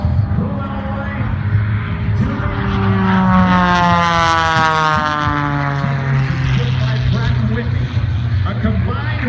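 Jet-powered truck at a naval air station air show, a loud roaring jet engine with a sweeping pitch shift as it passes, over crowd and announcer talk.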